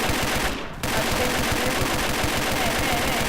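Rapid automatic gunfire in a video game shooter, a dense rattling burst of shots that runs almost continuously with one brief break near the start, loud and close, with no talking.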